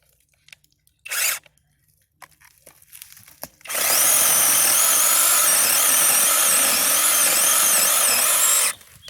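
A new chainsaw with a small motor cutting into a resin-rich fatwood knot. After a few faint knocks it roars into a loud, steady, close cut that runs about five seconds and then stops abruptly.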